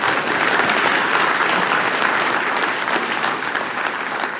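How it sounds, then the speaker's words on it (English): Audience applause fills the whole stretch as a dense, steady wash of clapping from a crowd, loud and sustained with no voices over it. "give me clap, Kobe."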